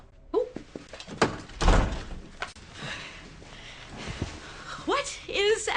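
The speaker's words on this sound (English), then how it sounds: "This way, you open the door, we get right to business." A door opens with a few thuds and clunks in an indoor scene, and voices speak over and around the sounds.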